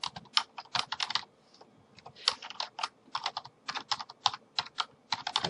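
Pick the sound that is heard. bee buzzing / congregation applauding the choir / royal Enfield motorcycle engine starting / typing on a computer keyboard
typing on a computer keyboard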